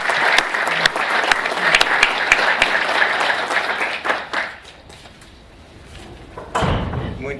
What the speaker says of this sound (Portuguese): peço uma salva de palmas para os nossos patrocinadores.